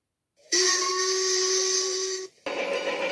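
A single long steam engine whistle blows loud and steady for nearly two seconds, stops briefly, then starts again with a rougher, hissier tone.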